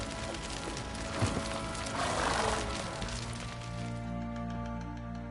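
Roach, Geralt's horse in The Witcher 3, gives a faint whinny, with a few hoof clops and a brief crack, all over a steady background drone.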